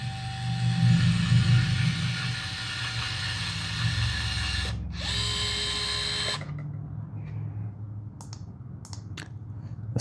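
Motor of a SEESII cordless caulking gun running at its third-fastest speed gives a steady mechanical whine for several seconds, stops abruptly, restarts briefly, then gives way to a few sharp clicks.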